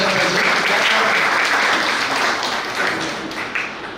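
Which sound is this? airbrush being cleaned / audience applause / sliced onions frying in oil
audience applause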